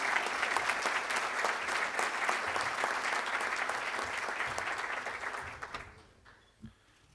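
Loud, sustained applause from an audience at a business breakfast event welcoming chemical engineer Roberto Kreimerman to the stage, steady and dense for about six seconds before tapering off quickly into near silence.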